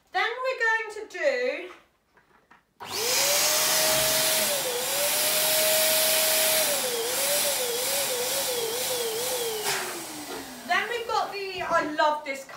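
An electric balloon pump inflates an 11-inch latex balloon, giving a loud, steady whirring drone for about eight seconds whose pitch wavers and slides down as the balloon fills, with someone talking before and after.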